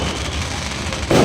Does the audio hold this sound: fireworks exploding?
yes